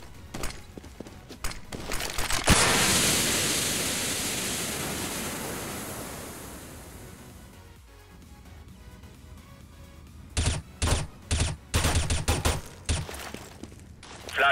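A smoke grenade in Counter-Strike on the map Cache bursts into a loud, broad hiss that slowly fades over several seconds, followed by a run of short, sharp clicks and bursts.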